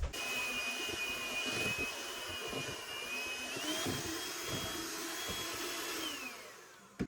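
An electric mixer whirs steadily through cheesecake batter with eggs for a baked strawberry pop tart cheesecake, its motor whine shifting in pitch partway through before it cuts off with a small clunk.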